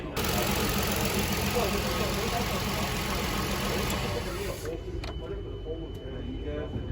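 Car engine with the fuel pump relay removed runs with a loud, steady mechanical drone, then cuts out abruptly about two-thirds of the way through, leaving a quieter background rumble and a few clicks.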